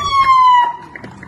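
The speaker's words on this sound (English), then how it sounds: "the police arrive on the street, sirens blazing" Police car siren on a street in Spain, a single loud wailing tone gliding downward and fading within about a second, with faint background noise.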